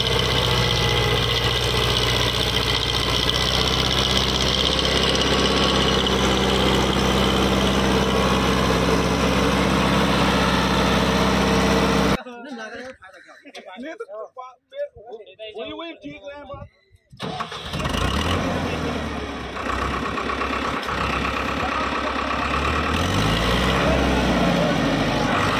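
A tractor engine runs loud and steady in a field test against a tiller, cutting out for a few seconds midway before rumbling on again; someone talks over it.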